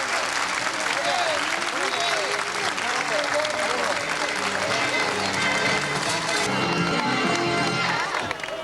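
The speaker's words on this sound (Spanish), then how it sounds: "El aplauso de despedida para Tanti." Sustained farewell applause from an audience at a municipal elderly care centre after a stage performance, loud and steady throughout with voices mixed in beneath the clapping.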